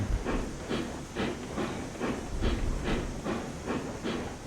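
Steam locomotive in the Railroads Online train simulator game, puffing in a steady rhythmic chuff with regular exhaust bursts about every half second, alongside a constant hiss, nearby and moderately loud with no talk.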